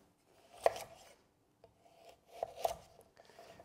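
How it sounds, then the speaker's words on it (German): Knife cutting a thick beetroot into quarters on a board, a few short crunchy cuts with two louder strikes, close and otherwise quiet. "Je nach Dicke halbieren wir sie die hier ist relativ dick, die viertel ich und das war's schon."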